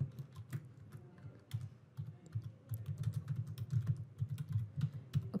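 Rapid computer keyboard typing while test card payment details are entered at a checkout page, steady clicking keystrokes in irregular bursts, close and fairly quiet, no talking.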